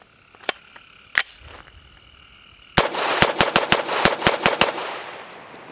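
Gunfire from a CMMG Banshee .45 ACP radial-blowback AR pistol: two isolated shots, then a rapid string of about nine sharp cracks, loud and close, with no talk.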